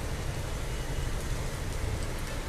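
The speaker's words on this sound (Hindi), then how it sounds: "देखिए फिर से तेज़ हो गई बारिश" Heavy rain falls in a public park, a steady dense hiss of downpour with low rumble underneath, continuous and fairly loud with no talking.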